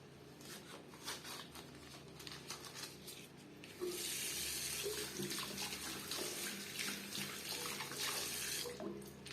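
Water runs steadily from a freshly repaired tap after the shut-off valve is reopened, a continuous close hiss and splash that gets noticeably louder and fuller partway through, with no voices.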